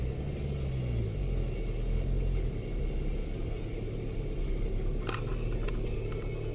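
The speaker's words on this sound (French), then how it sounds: "On accélère bien, mais on lâche l'embrayage tout doucement." A car restarting on snow after stalling gives a steady, close, low engine rumble with a throttle held on, with no clear rise in revs and no voices.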